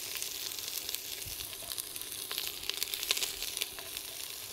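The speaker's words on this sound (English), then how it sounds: "And in goes my fennel." Fennel sizzling in extra virgin olive oil in a pan, a steady close crackle with scattered louder pops, no voices.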